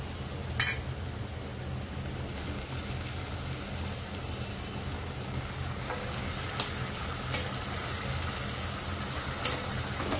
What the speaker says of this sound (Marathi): टोमॅटो सुद्धा मऊ होईपर्यंत परतून घेऊ.